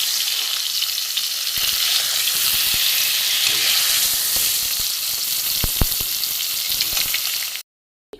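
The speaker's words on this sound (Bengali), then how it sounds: "পটলগুলো দেখুন লাল লাল করে ভাজা হয়ে গেছে" Pointed gourd (potol) frying in oil in a wok makes a loud, steady sizzle, broken by a few sharp crackles and stirring clicks, before cutting off abruptly to silence at the end.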